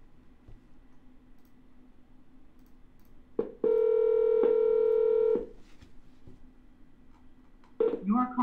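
Phone keypad tones sound for a double-dialed call to a seller, a steady loud tone held for about two seconds after a quiet stretch, then a fresh burst of dialing beeps at the end.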